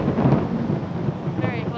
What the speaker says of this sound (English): Definitely having some thunder